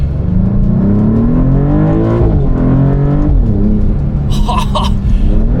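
A 2027 Maserati GranTurismo Trofeo engine roars loudly and climbs in pitch as it accelerates, briefly dropping between gears, with a crackle near the end.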